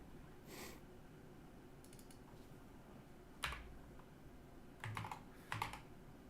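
Sparse, quiet keystrokes on a computer keyboard, a few scattered clicks and a short cluster near the end, with soft breathing and no talk.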